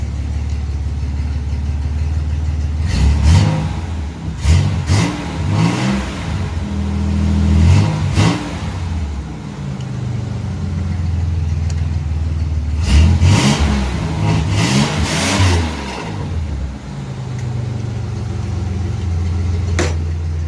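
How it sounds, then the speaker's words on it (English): A Chevrolet Celebrity Eurosport engine, cold-started after sitting five months, idles and then revs up twice in bursts, rising and falling loudly nearby, settling back to a rough idle between revs. "Let's give it a little rev."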